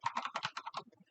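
Quick keystrokes on a computer keyboard as a password is entered, a fast close run of about a dozen clicks that tapers off.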